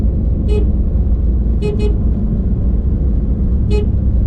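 A car horn toots in short bursts on a rough forest road at night: one beep, a quick double beep, then another single beep, over a steady low engine and road rumble.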